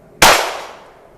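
A single sharp pistol shot from a .22 target handgun, a Ruger Mark IV or Browning Buck Mark, fired at a bullseye target outdoors. The report is loud and abrupt, then fades away over about a second with no talking.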